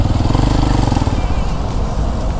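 A motorcycle engine thrums steadily while riding, a close, loud, pulsing putter that holds even throughout, with a faint voice blended into the noise.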